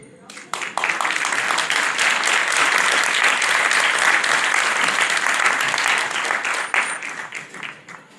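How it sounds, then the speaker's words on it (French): A campaign rally crowd at a municipal election launch in Livry-Gargan bursts into steady, dense applause that swells quickly, holds for several seconds, then tapers off. "On applaudit tous."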